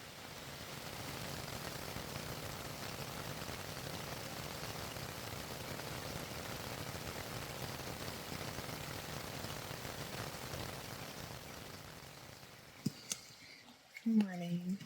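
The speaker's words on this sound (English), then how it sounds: "And that sounds like it's actually rain." Rain falls on a tent at a backpacking campsite in Pennsylvania, a steady hiss of drops on fabric that fades out near the end, followed by a few scattered close knocks and rustles.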